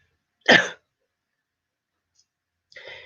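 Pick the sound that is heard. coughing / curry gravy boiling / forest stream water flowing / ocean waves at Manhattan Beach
coughing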